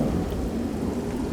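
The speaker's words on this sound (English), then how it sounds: "at least we're safe from the" Steady rain with a low, continuous thunder rumble fills a video game thunderstorm, loud and unbroken throughout with no voices.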